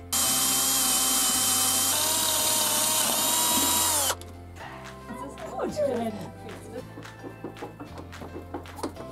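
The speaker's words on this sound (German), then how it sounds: "wird hier noch ein Loch gebohrt mit dem mitgelieferten Bohrer" A power drill bores a hole for a license plate bracket on a KTM 690 SMC/R motorcycle rear, using the supplied bit; the loud, steady whine runs about four seconds then stops, leaving quieter clattering handling noises.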